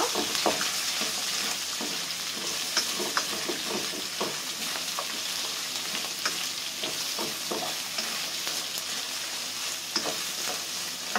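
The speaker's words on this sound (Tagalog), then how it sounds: "Halo-halo lang ulit tayo." Pancit noodles with carrots fry in a pan as they are stirred, a dense, constant sizzle with frequent soft scrapes and clicks of the spatula, close and steady throughout.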